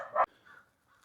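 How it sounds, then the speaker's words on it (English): A single short, harsh crow caw sounds outdoors, followed by a couple of fainter, more distant calls. "Yeah, those crows are circling up, and he sees them."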